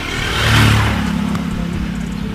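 A motorcycle engine revs up, swells to a peak and then settles into a steady mid-pitched hum, close and loud, with no talking.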